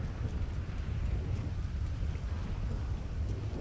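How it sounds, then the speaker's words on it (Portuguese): Heavy, steady rain pours down in the GTA 5 city of Los Santos during a flood, a dense, continuous wash of noise with a strong low rumble and no distinct thunderclap, heard alone with no talking. "a chuva foi tanta que inundou tudo"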